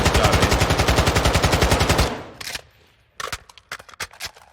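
Rapid automatic weapon fire in a video game, a loud sustained burst of evenly spaced shots for two seconds, then a few scattered single shots and clicks.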